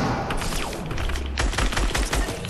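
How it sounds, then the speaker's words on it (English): Rapid, loud bursts of automatic gunfire crackle through a video game firefight, with dense overlapping shots and thuds filling the whole stretch and no talking. "They shooting at you?"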